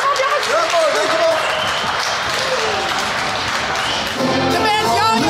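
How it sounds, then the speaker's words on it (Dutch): A festival crowd at AAIPOP 2022 in Nijlân claps and cheers for the band in continuous, loud applause, with voices calling out through it. "Ik zou zeggen, jou een daverend applaus."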